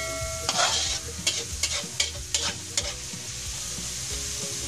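Onions frying in a pan for mixed vegetables, a steady loud sizzle with repeated scraping strokes of a spatula stirring them.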